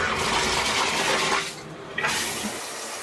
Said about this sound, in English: let's check the water pressure we got here.